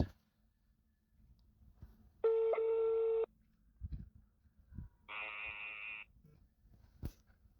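A telephone ringback tone plays while a call waits to be answered: two long, steady electronic buzzes about a second each, separated by a pause, with faint clicks and low background noise between them.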